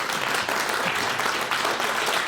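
Audience at a televised Brexit debate bursting into applause, dense sustained clapping from a room full of people, loud and close, with no talking over it.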